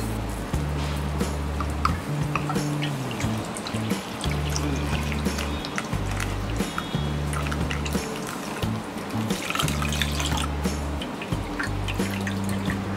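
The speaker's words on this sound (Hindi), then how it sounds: "इस ग्राइंड किए हुए मिलेट को हम स्ट्रेनर में डाल के धो लेंगे।" Water trickles and drips through ground brown top millet held in a strainer as it is rinsed, a close, steady wet patter with squishy sounds and a low humming drone pulsing underneath.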